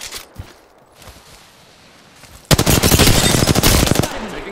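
Rapid automatic gunfire from an Apex Legends firefight bursts in loudly partway through, a dense sustained volley of shots that drowns out the quieter game ambience before it.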